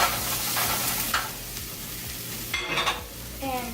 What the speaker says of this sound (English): we're adding our garlic to the broccoli